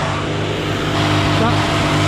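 Classic Mini Cooper RSP engine revved up during timing checks, a loud, continuous close engine roar that lifts slightly midway, with a voice audible under it.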